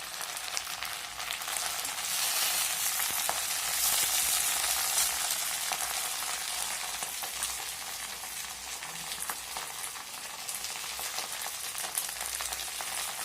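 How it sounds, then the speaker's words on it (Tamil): Greens sautéing in hot sesame oil for a spicy home-style keerai thokku give a steady, close hiss of frying that runs without a break, with faint scattered crackles and no voices. "நல்லெண்ணெய் ஊற்றி சூடானதுக்கப்புறம் இந்த கீரையை போட்டு இப்போ வணக்கிட்டுருக்குறேங்க"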